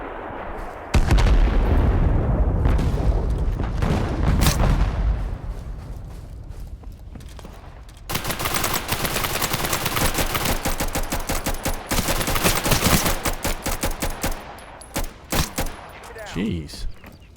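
Hip-fire gunshots in the shooter game Total Conflict: Resistance: loud rapid bursts of rifle fire, a heavy volley at first, then after a lull a long stretch of quick repeated shots ending in scattered single cracks.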